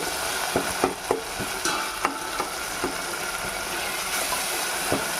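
Potato and tomato curry cooking in a pan in a village kitchen, with a steady sizzle and a series of sharp spoon stirs and scrapes at irregular intervals.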